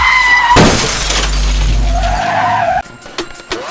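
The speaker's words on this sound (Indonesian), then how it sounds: "Astaga, Nissan itu menabrak lampu lalu lintas. Mobil lain juga ikut kecelakaan." A Nissan car crashes into a traffic light as other cars also collide: a loud tire skid turns into a crunching, shattering impact, followed by scattered smaller knocks and clatter as the wreck settles. No speech.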